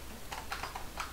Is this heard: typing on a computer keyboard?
yes